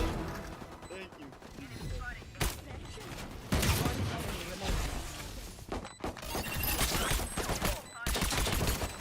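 Gunfire in the video game Valorant crackles in repeated sharp bursts and shots, mixed with shattering game effects, loud and dense, while people talk throughout.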